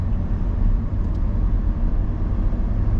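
A 2021 Mitsubishi Triton diesel single cab driving over a bumpy road, heard from inside as a steady, loud low engine and road rumble with no talk.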